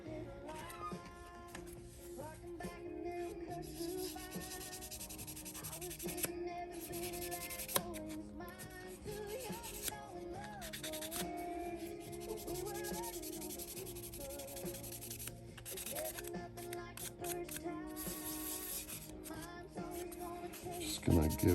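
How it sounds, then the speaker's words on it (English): Steady back-and-forth rubbing of a small sanding sponge on a model car hood, close and continuous, with faint background noise underneath. "Use these little sanding sponges here."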